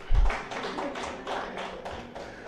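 An audience at a tribute event for an infectious diseases institute founder breaks into brief clapping, a dense patter of hands that swells and fades over a couple of seconds with no talking.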